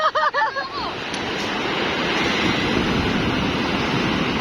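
Ocean surf breaks on the shore in a continuous, loud roar of rushing water, with brief excited voices at the start before the waves dominate.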